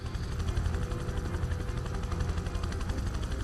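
A steady helicopter rotor thumps continuously with an engine whine in the video game Prototype 2, a constant loud drone without any voices.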